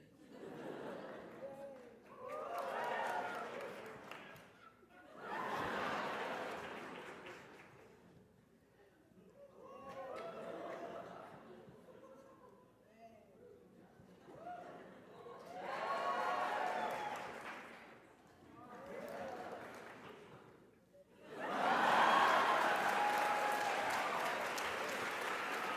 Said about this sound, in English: You can cheer for your favorite.